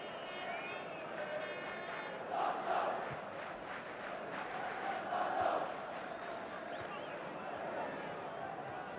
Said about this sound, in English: Captain being roundly booed.